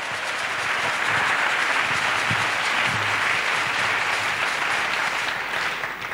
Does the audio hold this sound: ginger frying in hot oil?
no